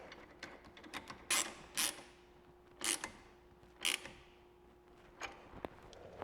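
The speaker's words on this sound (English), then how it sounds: "we're going to have to use our 11 millimeter on the nut head and our 3/16 hex key on the hex head" Wrench and hex key working the nut and hex head of a brake caliper fitting during a Wilwood big brake kit install, heard as scattered close metallic clicks, ratcheting bursts and short creaks with quiet gaps between.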